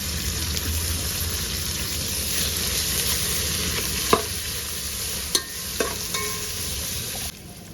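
A handful of mint leaves sizzles with golden fried onions for prawn biryani, a loud, steady frying hiss broken by a few sharp spoon knocks near the end, with no voices.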